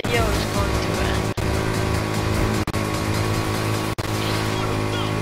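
Ford Mustang GT racing engine in Need For Speed Heat roars loud and steady, with three brief cuts in the drone as gears shift during a final lap.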